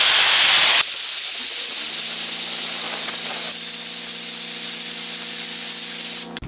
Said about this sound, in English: Spray your glue even